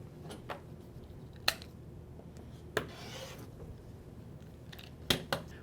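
Fabric squares sliced on a cutting mat for a flying geese quilt block, with a few sharp, separate cuts and rasps spaced over several seconds against a quiet room background.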